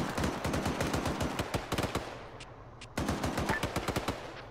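Gunfire in the military shooter game Arma 3: rapid bursts of automatic fire crack close and loud, with a brief pause before another dense volley.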